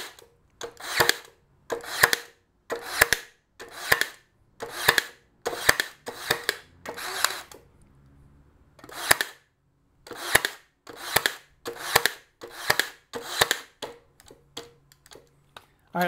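A Ryobi brad nailer with its pressure set near maximum drives nails into wood, firing about twenty sharp, loud cracks in an irregular rhythm with a brief pause midway.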